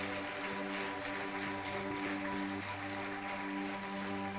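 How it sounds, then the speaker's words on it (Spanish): A church congregation applauds during a service, a steady wash of clapping running throughout beneath sustained organ-like tones. "Dele un aplauso al Señor si se lo va a dar con todo su corazón."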